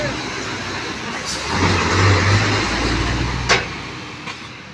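A rice combine harvester working in a field, its engine running as a steady low drone that swells louder in the middle, with brief clanks and louder bursts toward the end.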